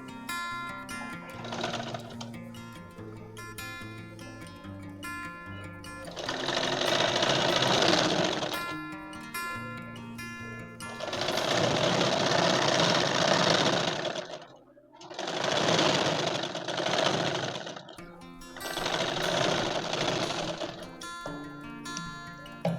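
A sewing machine stitches a folded hem on a pair of straight pants, with a loud, rapid mechanical whirring in several long bursts separated by brief pauses and quieter handling. It runs close and dominant.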